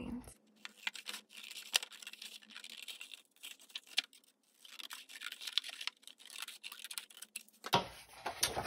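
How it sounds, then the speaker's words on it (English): Scissors cut paper along dashed lines for an ocean zones project, a series of soft, close snips and paper rustles in uneven bursts, ending with a sharper crinkling handling noise. "cut on your black dashed lines"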